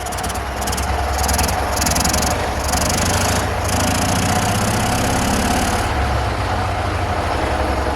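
A small single-cylinder UD-25 engine on a T-012 walk-behind tractor, fitted with a Chinese scooter carburetor, runs loud and close with a hissing rattle, its pitch climbing and dropping as it is revved, then settling back.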